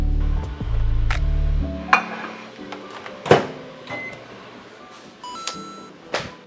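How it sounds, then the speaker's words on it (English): A microwave oven heating onion-heavy food hums steadily for a moment, then stops, followed by door clunks, a beep and scattered clinks and bumps of kitchen handling. "now I'm gonna microwave it."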